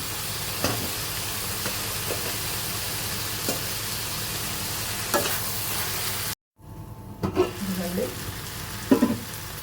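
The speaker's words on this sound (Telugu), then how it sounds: "ఇప్పుడు అరటికాయ ముక్కలు వేసేస్తున్నాను." Raw banana pieces fry in a pan, a continuous low sizzle with periodic scraping knocks as they are stirred, a short gap, then closer, louder stirring clatter.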